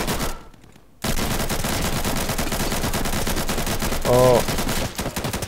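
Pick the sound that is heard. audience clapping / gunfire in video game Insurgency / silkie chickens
gunfire in video game Insurgency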